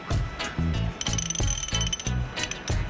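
A chain rivet tool is turned in small increments to crimp a link on a Yamaha Tricker motorcycle's sealed chain, giving repeated ratcheting clicks and creaks in short uneven bursts, close and fairly loud.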